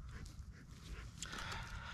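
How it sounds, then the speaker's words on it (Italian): A restless dog eager for a stick pants rapidly up close outdoors, its quick breaths in a steady rhythm over a soft background hiss. "il cane molesto che mi vuole solo il bastone"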